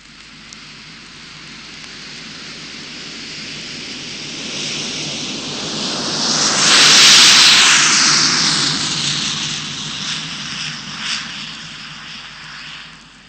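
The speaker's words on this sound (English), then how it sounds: "That was a Douglas DC-8, blasting down the runway on its way to San Francisco." A Douglas DC-8 jet airliner with Rolls-Royce engines takes off down the runway at an airport, a broad roaring rush that swells to a loud peak midway and then slowly fades as the jet pulls away.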